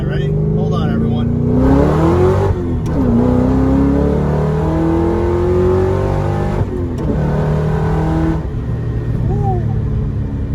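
A 750 hp 2006 Ford GT's 5.4-litre V8 revs hard and accelerates to about 100 mph, pitch climbing through several gear shifts, loud and close.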